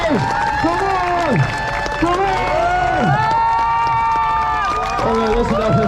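A street-performance crowd at the Edinburgh Fringe cheers and shouts loudly and continuously, with many rising and falling whoops and yells layered over a dense wash of voices and some clapping.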